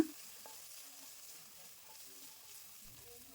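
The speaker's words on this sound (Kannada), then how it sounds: "ಎಣ್ಣೆಯಲ್ಲಿ ಸ್ವಲ್ಪ ಫ್ರೈ ಮಾಡ್ಕೊಳ್ಬೇಕು ಮೆಣಸಿನ್ಕಾಯಿನ" Guntur and Byadgi red chillies, broken up, fry in oil with a faint, steady sizzle and a soft crackle, fairly quiet throughout and without voices.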